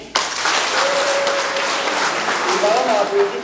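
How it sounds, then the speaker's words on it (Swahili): A crowd applauds at a Christian rite of passage ceremony held at St Mary's Primary School in Ongata, with dense, sustained clapping and a few raised voices carrying over it throughout. "Makofi."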